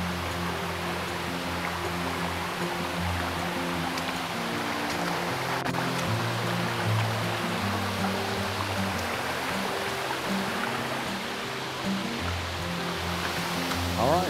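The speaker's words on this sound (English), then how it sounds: "Waterfall's looking good today." Machine Falls, a two-level waterfall on a Tennessee trail, roars as a steady, dense wash of falling water throughout, with faint low hum beneath.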